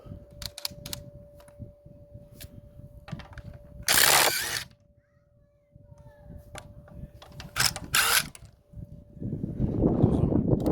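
A DeWalt DCF887 impact driver works the half-inch 17 mm wheel nuts on a Renault Master minibus, giving two loud, short bursts of rapid hammering separated by quieter mechanical clicks and handling noise, with a steady hum underneath.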